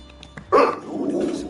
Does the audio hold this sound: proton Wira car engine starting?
no